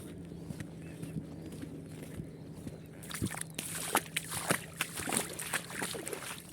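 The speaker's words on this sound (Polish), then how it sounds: "Taka woda. Nawet dobrze obmyło mi buty." Walking through shallow water on a forest trail in old Bundeswehr 2005 boots: faint sloshing at first, then a run of uneven, splashy footfalls with water churning around the feet, close by.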